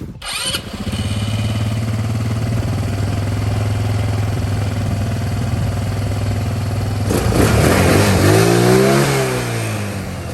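A 200cc four-wheeler ATV engine cranks and catches, then runs at a loud, steady idle nearby. Near the end it revs up and back down in a rising and falling sweep.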